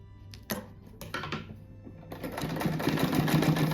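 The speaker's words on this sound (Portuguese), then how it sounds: "Aqui eu vou fazer 2 costuras, porque eu esqueci de dar o retrocesso ali, pra ficar bem forte." A sewing machine sews a seam on a patchwork rug made of fabric scraps, starting with a few clicks and knocks and then speeding into a close, continuous rapid stitching rattle.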